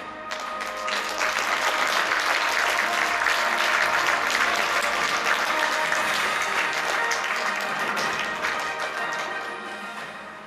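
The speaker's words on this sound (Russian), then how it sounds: "На сцену под ваши бурные аплодисменты приглашаем городской фольклорный ансамбль «Русско-Устинцы»." A concert audience at a jubilee celebration of a Yakutian museum of music and folklore applauds a folk ensemble being welcomed onto the stage. The dense, close clapping swells, holds steady for several seconds and then gradually tapers off.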